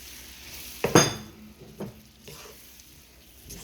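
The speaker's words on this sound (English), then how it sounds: "I'm just gonna go ahead and add those shrimp right into the pot" Shrimp dropped into a pot of Cajun sauce, a sudden sizzle followed by metal spoon clinks and stirring scrapes against the pot, close and fading to a quiet simmer.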